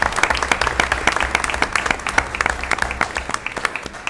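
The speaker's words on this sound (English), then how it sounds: "So please give a round of applause." Warm applause from the audience at a school board meeting welcoming students who are showing their artwork, a loud, crowded patter of many hands clapping steadily throughout.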